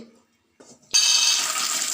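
After a quiet moment and a faint clatter, water suddenly gushes in a steady, bright hiss as it is poured onto rice flour dough for traditional shavige noodles.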